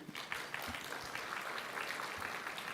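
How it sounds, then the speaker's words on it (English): Audience applause for twenty doctoral students at an academic conference, a dense, steady wash of clapping from a crowd in a hall, sustained throughout at moderate loudness. "Please give applause for you"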